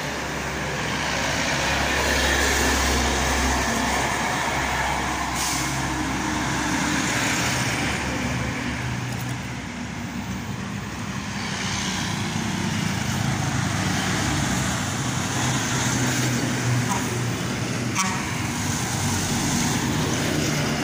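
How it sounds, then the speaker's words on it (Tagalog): Trucks roll past one after another on a roadway, a loud continuous rumble of heavy engines and tire noise that swells and eases as each vehicle goes by, close and without talk. "sunod-sunod yung mga truck"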